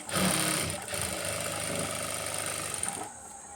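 A sewing machine runs steadily at close range, stitching a blouse lining in one continuous humming, rattling run before easing off at the end.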